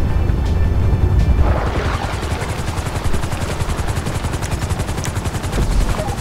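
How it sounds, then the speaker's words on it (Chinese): A helicopter in GTA 5 with rapid rotor chop pulsing steadily throughout, growing more prominent, over a background of game noise and a few faint sharp impacts. "Chopper should be inbound."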